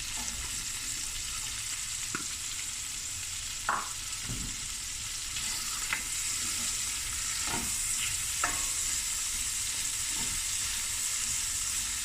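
Onions frying in a pot for a seafood boil give a steady, close hiss of sizzling, broken by a few soft scrapes and knocks of stirring, with no talking.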